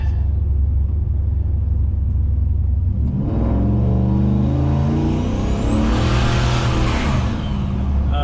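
A turbocharged GMC truck idles with a deep, loud rumble on a back road, then accelerates hard, its engine note climbing and roaring along with a rising turbo whistle before easing off near the end.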